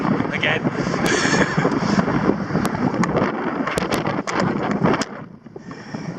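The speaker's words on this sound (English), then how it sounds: "Windy, sunny morning." Wind blasts steadily across the microphone on a windy, sunny morning outdoors, a loud continuous rumbling buffet with occasional sharper gusts.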